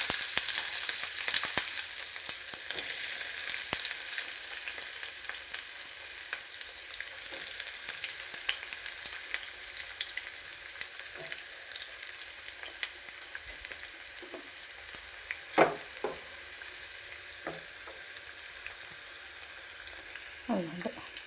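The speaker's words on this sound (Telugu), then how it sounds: "ఇప్పుడండి ఉల్లిపాయలు వేస్తున్నానండి." Sliced onions fry in hot oil in a pan for a ridge gourd curry, giving a steady close sizzle with occasional stirring scrapes and spatula knocks throughout.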